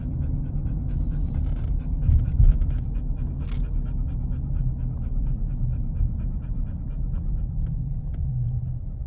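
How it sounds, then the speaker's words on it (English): A dog pants rapidly and whimpers with excitement inside a moving car, its breathing close and continuous over a loud, steady road rumble. "Whimpering in excitement."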